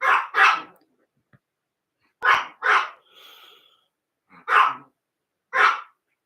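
A dog barks close by in short bursts, mostly quick doubled barks with pauses between them, and a soft snuffling breath partway through, with no talking.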